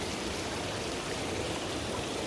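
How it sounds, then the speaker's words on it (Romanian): Water flowing out of stone at a scenic outdoor spot, a continuous rushing, splashing stream that holds steady and close throughout, with no voices over it. "Nu e interesant cum vine din piatră apa."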